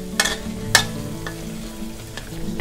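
Pork fat being rendered in a pan, stirred a little, with a steady sizzle of frying fat and a few sharp scraping clicks of a utensil against the pan, close and fairly quiet throughout.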